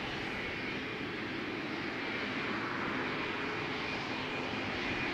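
A jet airliner departs Amsterdam Schiphol Airport from runway 36L, a steady broadband engine roar holding loud and even throughout, with no voices.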